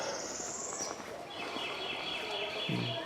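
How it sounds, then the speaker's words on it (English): Faint birds chirp and trill in the distance over a steady outdoor background hum, with scattered high calls, at Seminole Falls in Rainbow Springs State Park, Dunnellon, Florida. "So you can hear the birds."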